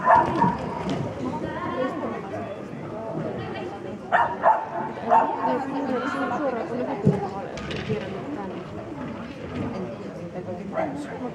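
A dog yips, whimpers and barks in short bursts, mixed in with steady conversation between people throughout, at an outdoor agility course.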